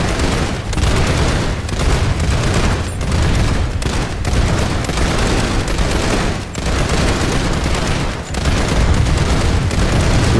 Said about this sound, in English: Infantry machine gun.